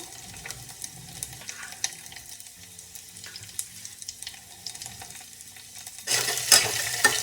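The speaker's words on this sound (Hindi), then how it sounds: "मैं लहसुन को मैश करके इसमें डालूंगी।" Mashed garlic is stirred in a pan with faint scraping, then a louder burst of sizzling near the end as it hits the hot oil, quiet and close with no speech.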